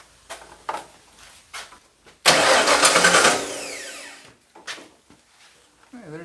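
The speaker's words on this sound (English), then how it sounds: "This might start the truck" An abandoned Ford OBS project truck engine cranks and briefly catches with a loud burst that fades out after about two seconds, framed by scattered clicks and clunks before and after.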